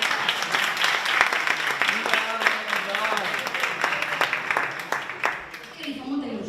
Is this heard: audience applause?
yes